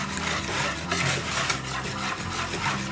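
Pancake batter of milk and eggs is stirred in a bowl, a continuous rhythmic scraping and swishing with soft repeated strokes and no speech.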